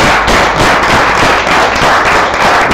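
Audience applause at a lecture session, a dense, loud, continuous patter of clapping filling the whole stretch without pause.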